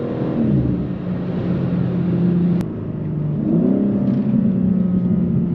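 A BMW G82 M4 under acceleration on a New Jersey road, its engine note climbing steadily in pitch, dropping briefly at a gear change, then rising again, heard from inside the car with no voices.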